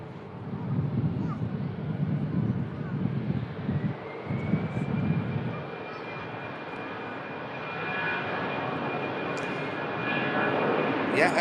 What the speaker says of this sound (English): aircraft in shot is a Virgin Atlantic A330